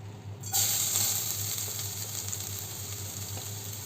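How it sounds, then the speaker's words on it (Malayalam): Grated coconut hits a hot pan for dry prawn chammandi and bursts into a loud, close sizzle that settles into steady frying hiss. "ഇനി അതിലേക്ക് തന്നെ നമുക്ക് ചെരുകി വെച്ചിരിക്കുന്ന തേങ്ങ ചേർത്ത് കൊടുക്കാം"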